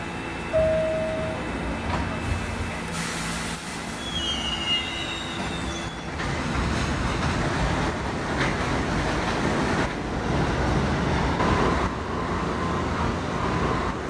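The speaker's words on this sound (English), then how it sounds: "There's a Woodlands Avenue bound M train." An M line subway train pulls out of the station with loud, high metallic wheel squeal. Steady rumbling railcar noise runs underneath, and there is no talk.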